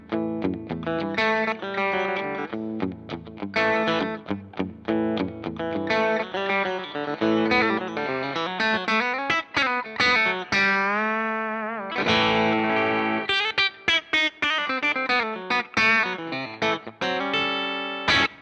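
An Eternal Guitars Blackie Tribute S-Type electric guitar on its bridge pickup plays bright distorted riffs and sustained bends through effects, loud and alone with no talk.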